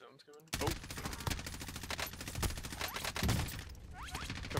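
Gunfire in the video game Warzone, rapid close bursts of automatic shots with sharp cracks repeating throughout, loud and dense after a brief quiet start, with players talking over it.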